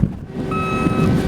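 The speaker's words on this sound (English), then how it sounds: "I got 3 dump trucks running back and forth" A dump truck clearing debris in Mayfield gives a steady reversing beep, a single sustained tone over low engine rumble and outdoor wind.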